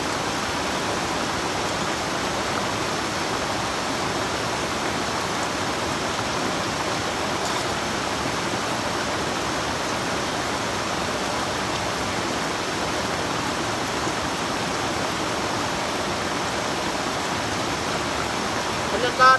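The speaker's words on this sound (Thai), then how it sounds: "ก็คือฝนตกนี่แหละลำบาก" Heavy rain pours down outdoors at night at a riverside fishing camp, making a loud, dense, unbroken hiss that lasts throughout.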